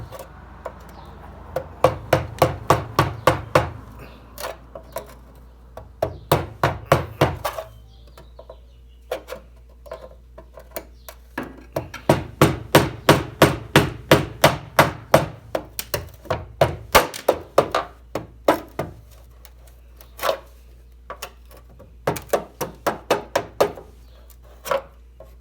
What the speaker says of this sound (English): I took a hammer and a screwdriver and I slowly started tapping up, and it splits the welds slowly